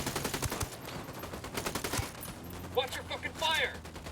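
Rapid gunfire bursts in the tactical shooter Ghost Recon Wildlands, repeated shots crackling through much of the clip under a busy game mix, with a voice briefly heard near the end.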